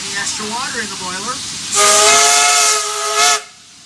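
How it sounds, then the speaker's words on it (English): Steam locomotive on the Georgetown Loop scenic railway in Colorado sounding its warning whistle for a curve: a loud, harmonic steam whistle blast with hiss, briefly dipping and swelling again before stopping, preceded by wavering engine tones. "That warning whistle is for this curve known as the high fill."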